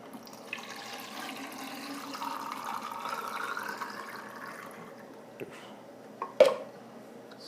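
Film fixer pours steadily into a developing tank for several seconds at moderate level, a soft splashing stream, followed by a couple of clicks and a brief knock near the end.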